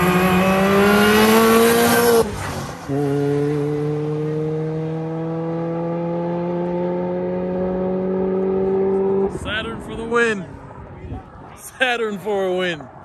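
A Saturn car engine revs and accelerates hard in a street race against a Ford Explorer, with a long steady rising engine drone up close, then excited voices talking over fading motor noise.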